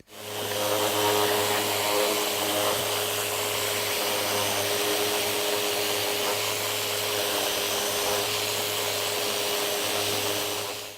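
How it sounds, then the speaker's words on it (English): A power sander works over a wooden wine caddy in a steady, loud, continuous whine with a low motor hum, running unbroken for about eleven seconds. "we've now finished all of our sanding"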